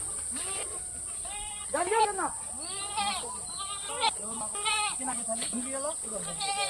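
On a goat farm in West Bengal, several goats bleat repeatedly in short, wavering calls, some near and some farther off, over a constant high-pitched background whine.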